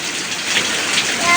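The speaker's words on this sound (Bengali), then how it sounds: "এখানে বৃষ্টি হচ্ছে" Steady evening rain falls in a broad, even hiss, with drops pattering on surfaces close by; the wash holds level and unbroken for the whole short stretch, with no voices over it.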